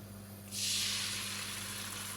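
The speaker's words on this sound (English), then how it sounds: "Hear the sizzle." A soft, steady sizzle rises suddenly and keeps hissing as whisked eggs hit a hot frying pan, with a faint hum underneath.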